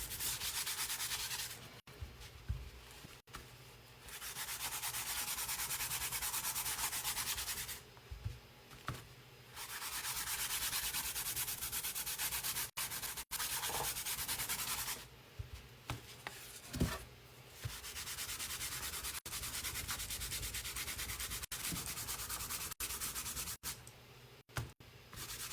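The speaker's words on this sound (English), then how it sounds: "I kind of rub it into the wood and go in with the grain" Wood stain is rubbed into a board along the grain with a cloth, giving repeated long, soft scrubbing strokes separated by brief pauses, close and fairly quiet with no talking.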